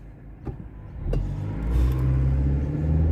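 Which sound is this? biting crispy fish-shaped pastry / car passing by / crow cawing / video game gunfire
car passing by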